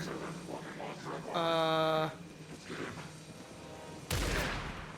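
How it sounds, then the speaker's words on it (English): Short bursts of gunfire aimed at the player in the video game Alan Wake II: a rapid rattling volley, then a sharp loud shot near the end, heard over a dark, quiet ambient background. "Oh, they're shooting me!"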